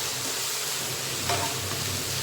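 Mushrooms sautéing in a hot pan for a mushroom omelette, a dense continuous sizzle with a brief stirring scrape in the middle, close and steady, no talking.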